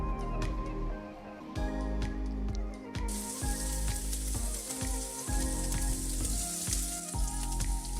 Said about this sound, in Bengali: আমাদের চিকেনটা একটু ফ্রাই করে নিব, সেজন্য আমি একটা হ্যান্ড গ্লাভস নিয়েছি, কারণ এটা আমরা ডিপ ফ্রাই করব